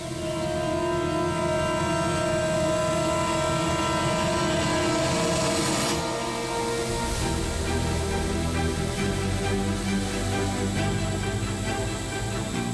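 A drone carrying a pouch of diamonds flies off in a television crime drama, its steady whirring drone running loud and unbroken, shifting in tone midway as it draws away, with no speech over it.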